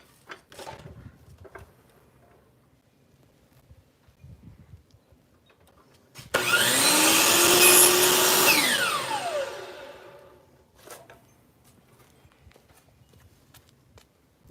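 A power saw cuts through a piece of wood trim, spinning up loudly for about four seconds before winding down, with quieter handling noises and movement around it.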